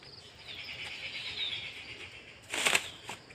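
A racing pigeon landing, a soft whoosh of flapping wings followed by a short, sharp flutter close by, with faint bird chirps in a quiet outdoor setting.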